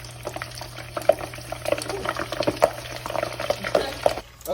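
Seafood meatballs of lobster and shrimp deep-frying in hot grease, a steady low bubbling hiss with scattered pops and crackles, close and moderately loud, with no talking.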